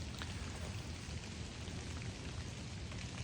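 Steady rain pours down outdoors during a deer hunt, a dense, even hiss of drops on leaves and ground filling the whole stretch with no pauses.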